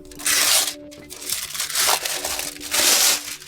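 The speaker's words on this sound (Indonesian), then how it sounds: "Jadi intinya kami punya semacam bungkus kertas di sini." Paper wrapping crumpled and crinkled by hand while unboxing a Xiaomi Pad 7 tablet, in loud, close bursts of rustling with short pauses between them.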